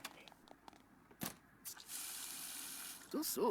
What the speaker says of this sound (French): Se laver les mains. Se laver les dents. Se laver les mains. Prendre l'eau.